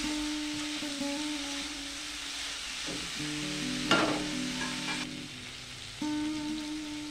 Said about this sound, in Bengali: আলু ডুমুর খুব ভালোভাবে কষে নেব।